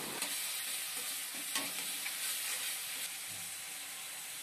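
A spice mix with turmeric and salt frying in a pan for a chicken and pea curry: dense, loud, continuous sizzling hiss with faint scraping of stirring, no voices.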